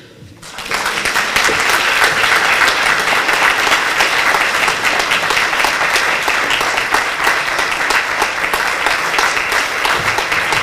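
A concert audience in Mielec breaks into loud, warm, sustained applause for the 80th anniversary of the mixed choir TS Melodia, many hands clapping densely and evenly from start to finish.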